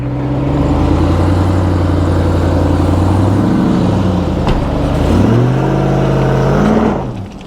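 Ram TRX Hellcat-powered super truck engine revving under throttle while climbing an off-road hill, a loud steady drone that dips and rises again midway before easing off at the end.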